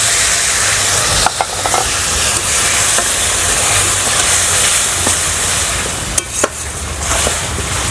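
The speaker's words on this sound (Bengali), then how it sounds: "জলটা দিয়ে দেবো।" Water is poured into a hot pan of fried onion, ginger and garlic, producing a loud, continuous sizzling hiss with a few clinks of a utensil stirring against the pan.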